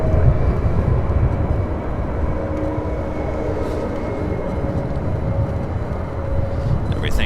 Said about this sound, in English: The next takeoff is United Airlines 2413, a Dreamliner headed out to Washington Dulles.